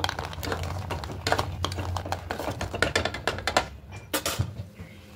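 Spoon stirring milk with jaggery batasa in a pot for a sago dessert, a string of close, sharp clinks and scrapes against the metal, quickening toward the end.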